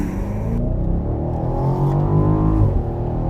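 A 2022 BMW Alpina XB7 luxury SUV engine drones loudly and steadily from close by, its pitch climbing smoothly as it pulls, then easing off near the end, with no talking.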